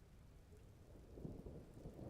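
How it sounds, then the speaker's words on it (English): Rain and thunder in the game Vintage Story: a quiet, steady patter of rainfall with a low, rolling rumble of thunder that swells slightly toward the end. "now it's raining again"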